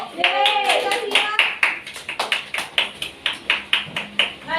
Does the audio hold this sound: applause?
yes